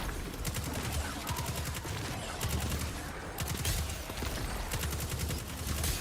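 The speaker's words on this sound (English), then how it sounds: "that's the frost explosions we're looking for." Rapid bursts of frost explosions from the video game Destiny 2 crackle in quick repeated clusters, like fast gunfire, with short gaps between volleys at a steady, fairly loud level.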